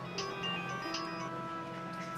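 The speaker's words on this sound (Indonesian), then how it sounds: "Tuh kan Mas Bagas telepon" A phone rings softly with an incoming call, a steady tonal ringtone melody under room tone, with no talk over it.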